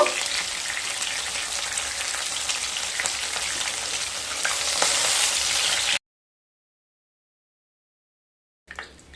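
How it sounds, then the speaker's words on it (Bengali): Medium potato pieces frying in oil left over from frying fish for an Assam-style tenga fish curry: a steady, close, loud sizzle for about six seconds, then silence before the sizzling briefly returns. "এবার ওই একই তেলে আলুগুলোকে ভেজে নেব"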